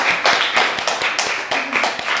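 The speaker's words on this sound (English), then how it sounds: "Can we applaud first, though?" Audience applause after a book talk at a coffee-and-books event, a couple of seconds of moderately loud, uneven clapping from a small crowd with distinct individual hand claps.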